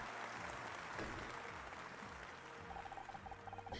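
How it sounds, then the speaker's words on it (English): Crowd applause in the video game Murder By Numbers forms a steady, faint wash of clapping with light electronic beeps at the end. "Clap, clap, clap, clap, clap."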